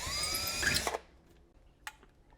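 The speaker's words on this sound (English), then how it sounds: "Okay, I got that hole drilled through from both sides." A power drill whines loudly for about a second while boring a hole through a door for a keypad lock handle, then stops, followed by a brief clunk.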